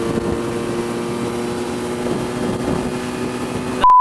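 A Benelli Leoncino 500 motorcycle engine drones steadily at high speed with constant wind rush, its tone holding near cruising pitch rather than climbing, before a brief sharp burst right at the end.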